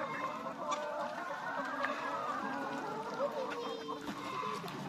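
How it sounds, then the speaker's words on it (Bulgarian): Chickens on a small farm cluck and call steadily throughout, several birds overlapping in a continuous, moderately close chorus with no talking. "се отглеждат кокошки"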